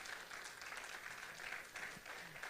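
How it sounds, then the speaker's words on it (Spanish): A church congregation applauds steadily, a dense wash of many hands clapping at once, heard somewhat distantly and fairly quietly. "Dele un aplauso fuerte al Señor."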